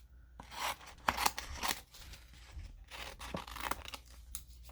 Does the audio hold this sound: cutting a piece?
yes